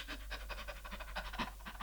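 A voice imitates a dog panting, with quick, rhythmic breathy huffs repeated steadily and close up, heard alone over a low steady hum.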